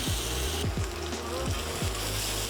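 Kimchi sautés in a hot pan beside cooked ingredients for a kimchi hot pot, giving a steady close sizzle with broadband hiss and low rumbling sputters throughout.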